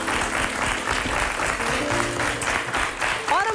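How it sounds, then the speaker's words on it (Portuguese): Studio audience on a Portuguese daytime TV talk show clapping steadily throughout, a dense broadband patter of applause with some voices and background noise mixed in. "Um grande aplauso para a Alda."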